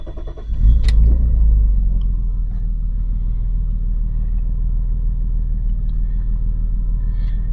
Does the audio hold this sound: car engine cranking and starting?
yes